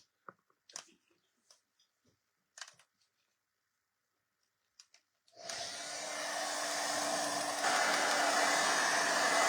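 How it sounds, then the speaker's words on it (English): A blow dryer starts up after a few faint clicks and handling sounds, then runs as a loud, steady whoosh to the end while drying a coat of stencil paint. "grab up my blow dryer"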